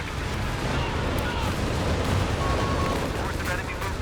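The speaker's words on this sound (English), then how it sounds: "Panzer IV is rotating now with their Vet 1s. Blasting at maximum fire rate." Panzer IV tank cannons blasting at a fast rate in a Company of Heroes 3 multiplayer battle, a dense continuous barrage of booming shots and battle noise under an excited commentator's voice.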